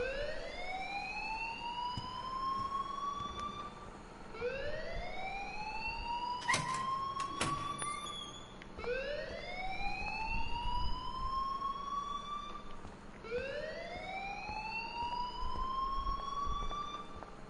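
An alarm ringing in the video game Life is Strange, a repeating rising electronic whoop that sweeps upward about every two seconds, steady and fairly faint, with a couple of brief metallic clanks partway through.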